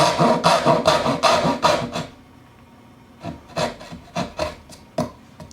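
A Western saw cuts a dovetail half pin in wood. Quick, loud rasping strokes run steadily for about two seconds, then stop briefly before slower, separate strokes resume.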